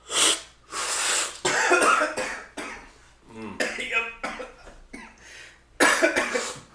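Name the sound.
coughing after sipping coffee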